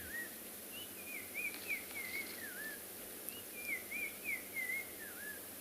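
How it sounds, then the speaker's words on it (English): Black-crowned tchagra calling on a sunset safari at Tswalu in South Africa: two clear whistled phrases of rising and falling slurred notes, moderately near over a quiet hiss of insects. "That's a black-crowned chagra."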